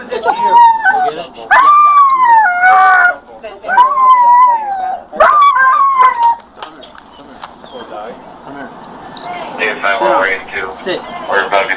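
A dog barks and yips loudly in repeated bursts during a tense store confrontation, with people talking and giving commands over and between the barks.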